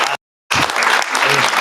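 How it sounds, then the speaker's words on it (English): Audience applause at a panel discussion, breaking out after a short silence and continuing as steady, dense clapping from a crowd for more than a second. "just one more round of applause for Cynthia"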